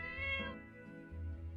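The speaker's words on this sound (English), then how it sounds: "Hey, it's a kitty." A fat stray cat in the video game My Time at Portia gives a soft, drawn-out meow, heard alone over a faint steady background.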